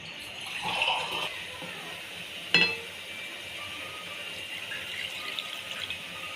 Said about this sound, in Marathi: मी आणखी थोडंसं टाकते पाणी